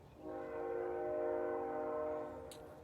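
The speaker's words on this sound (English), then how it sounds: "I hope that train is not too loud" A train sounds its horn in a long, steady blast for about two seconds, heard from a backyard, with a short faint click near the end.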